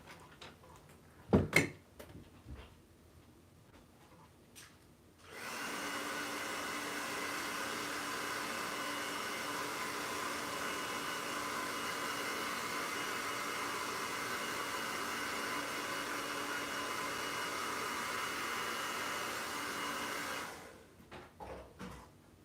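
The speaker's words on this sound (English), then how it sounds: "I'm gonna have to like use a hairdryer to dry all this off real quick" A hair dryer blowing for about fifteen seconds, a steady, close whooshing hum that starts abruptly after a few quiet seconds with faint clicks and handling noises, then cuts off near the end.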